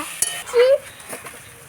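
A spoon stirs ground turmeric, chili and coriander as they fry in a pan for a potato-and-flour snack. It gives brief scraping and clinking strokes, close and fairly loud, with no voice present.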